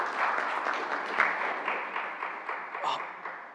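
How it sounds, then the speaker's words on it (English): Audience at a business seminar claps in a moderate, fairly even round of applause lasting a few seconds, heard at some distance. "Round of applause for him."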